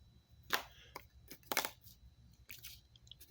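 Toy Zenkaiger Gatlinger morpher gun firing its electronic attack sound effect, a few sharp crackling bursts with short gaps, moderately loud and close with no talking.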